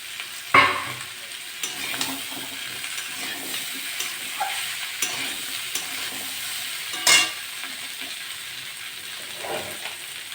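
Potatoes fry in a pan as ginger goes in, a soft continuous sizzle broken by a few sharp scraping stirs of a spatula against the metal, close by and fairly quiet.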